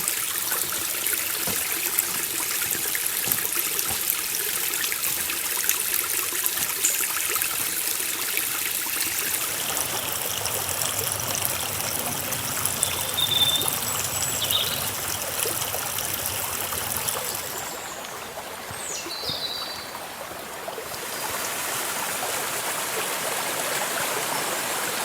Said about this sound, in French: ce ruisseau bien paisible, lorsqu'il doit y avoir de fortes pluies, eh ben, il doit monter très très haut